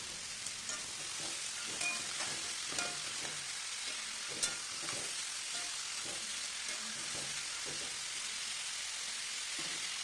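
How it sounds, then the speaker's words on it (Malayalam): Sliced onions sautéing with salt in a pan for mutton varattiyathu, a steady, close, continuous sizzle and fry with scraping stir sounds throughout, no talking. "1/2 ടീസ്പൂൺ ഉപ്പ് കൂടി ചേർത്ത് നന്നായി വഴറ്റിയെടുക്കാം."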